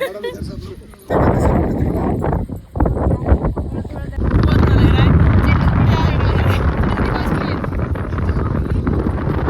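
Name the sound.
strong wind blowing on glass bridge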